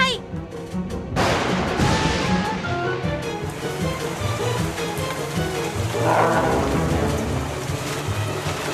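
A cartoon storm cloud lets loose rain and thunder, a thick continuous rush of rainfall with a rumbling crack near the start and a rolling swell later, while characters speak over it.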